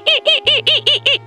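A man mimics a bird call meant to lure a chick from a tree hollow, six quick, evenly spaced squawking whistles in a tight rhythmic run, close and loud.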